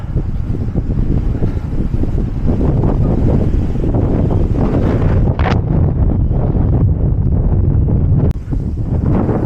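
Strong wind roars in the Gorges de Galamus, a loud, steady buffeting rush right against the microphone with brief gusting peaks and no voices.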